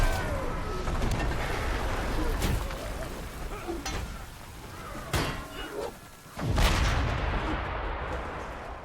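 Bombard cannons firing during a medieval battle in the video game Chivalry 2, heavy booming blasts over a dense, noisy battlefield din, with a voice shouting in the mix.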